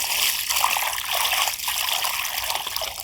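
Water poured onto a vermicompost bed, a steady broadband trickle and splash running continuously and close for the whole stretch, with no voices over it.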